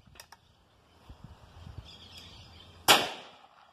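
A single 16-gauge shotgun blast fired over a chronograph, a sharp loud report near the end followed by a brief decaying tail, with faint outdoor chirps and clicks earlier.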